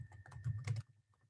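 A computer keyboard tapping out a short name, a quick run of close, fairly soft keystrokes that stops briefly, then a few lighter taps.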